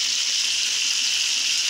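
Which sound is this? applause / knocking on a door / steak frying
steak frying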